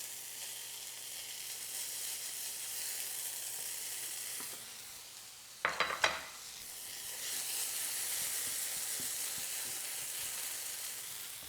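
Black beans sizzle steadily in a frying pan while a breakfast quesadilla is cooked, a continuous frying hiss that is briefly stirred midway with a few louder scrapes, then settles back into an even sizzle.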